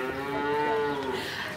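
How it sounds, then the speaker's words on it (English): A cow moos once, a loud, close, drawn-out low bellow with a tonal, slightly falling pitch that fades at the end, alone without speech. "That's right, it's a cow."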